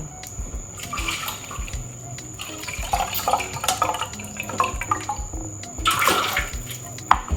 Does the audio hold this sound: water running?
yes